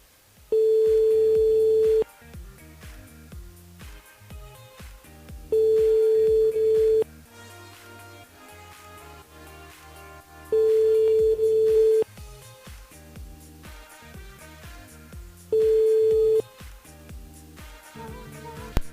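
A telephone call rings out on a radio show: four long, steady ring tones repeat at even intervals of about five seconds, with quieter music and background sound in the gaps between rings.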